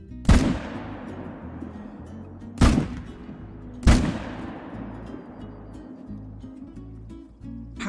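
Three loud, sharp gunshots from a hunting video game, spaced a couple of seconds apart, each with a long decaying tail over a low steady background hum.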